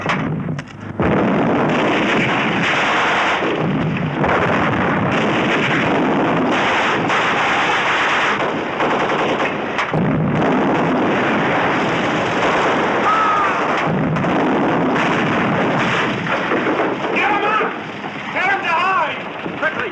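Gunfire follows a shouted order to fire, a loud, dense wash of cracking shots and booming reports that runs almost without pause, with voices faintly mixed in.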